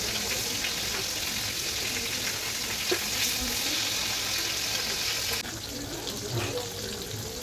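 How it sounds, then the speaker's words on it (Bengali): Katla fish pieces fry in hot oil in a wok, making a loud, dense, even crackle that drops slightly in level near the end. "এবার মাছগুলো একটা একটা করে ভেজে নেব লাল লাল করে"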